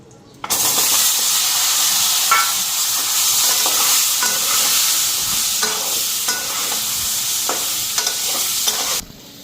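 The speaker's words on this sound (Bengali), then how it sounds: "বেগুনটা ফ্রাই করে নিই হালকা।" Eggplant pieces seasoned with turmeric and salt frying lightly in a hot pan, a steady loud sizzle and hiss lasting nearly the whole stretch, with occasional stirring clicks and no talking.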